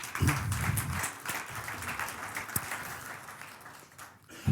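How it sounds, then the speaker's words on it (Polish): A church audience gives Kuba a fairly quiet round of applause with soft, scattered clapping that slowly fades away, heard from a distance. "Wielkie brawa dla niego."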